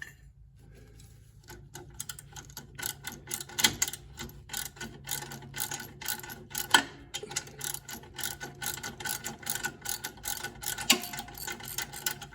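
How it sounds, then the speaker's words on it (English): A hand ratchet backs a bolt off a deck plate bracket on a John Deere L130 lawn tractor, with rapid rhythmic clicking in quick bursts, close and fairly loud, with brief pauses between strokes. "pull the bolt back off"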